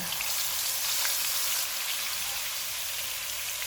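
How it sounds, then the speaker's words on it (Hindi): Steady, crackling sizzle of chilies and ginger-garlic paste frying in hot oil for beef pulao, continuous and fairly loud with no voices. "इनको 1 मिनट तक भूनेंगे।"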